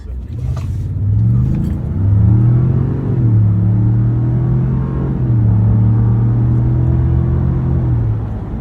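A 2018 Ford F-150 3.5L pickup with an aftermarket air intake accelerating steadily through third gear to 60, its low rumbling pitch climbing and holding through a long pull, close and loud with no voices.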